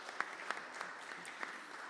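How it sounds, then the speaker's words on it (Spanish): Audience at a book launch clapping, fairly faint and thin, with a few sharper individual claps standing out from the scattered applause. "Un aplauso."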